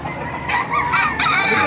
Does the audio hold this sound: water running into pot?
no